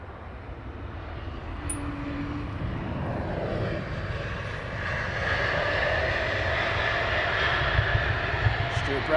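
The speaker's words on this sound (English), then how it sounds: "He is pushing back the Cathay Pacific in a minute." A Cathay Pacific airliner pushing back at London Heathrow, its engines giving a loud, steady roar that swells and grows brighter partway through, heard from nearby with no voices over it.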